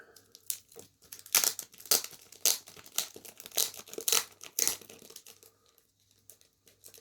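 Art cards from a Terminator Genisys Blu-ray steelbook set being pulled from their plastic wrapping: repeated loud crinkling and tearing bursts in an irregular rhythm, close up, with short pauses between handfuls.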